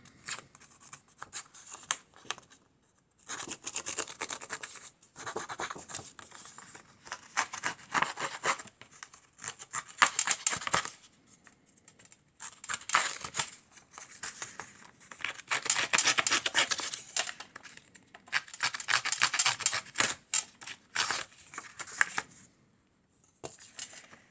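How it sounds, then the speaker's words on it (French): A distresser tool scrapes the edges of craft paper to age it for a handmade card, making close, dry rasping strokes in repeated bursts with short pauses between them and no talking. "Donc, je viens vieillir le papier."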